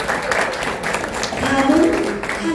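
Audience applause at a Korean association's guest-introduction ceremony, a short steady burst of clapping from the room, moderately loud and close, running on without a break.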